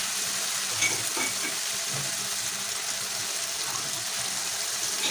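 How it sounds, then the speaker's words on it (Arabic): Chicken fries in a pan on a gas stove with a steady, even sizzle and hiss, close and continuous, with faint scraping of stirring now and then. "وهقلب الفراخ وهسيبها على البوتاجاز لحد ما تنشف"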